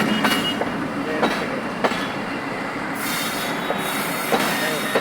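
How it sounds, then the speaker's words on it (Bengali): A train pulls into a station with a broad rumbling roar, squealing wheels and intermittent clacks over the rails, fairly close and continuous. "ট্রেন চলে এসেছে।"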